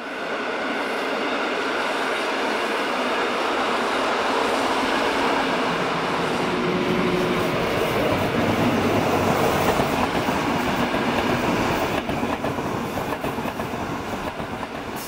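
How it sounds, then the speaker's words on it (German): Two Rhaetian Railway trains run almost in parallel, an Engadine push-pull train hauled by Lok 612 and an Interregio from Chur. A continuous loud rumble with clickety-clack wheel noise and some faint squeal carries steadily throughout. "Hier kommt es nahezu zu einer Parallelfahrt des Engadiner Pendelzuges mit Lok 612 und dem Interregio aus Chur mit Lok"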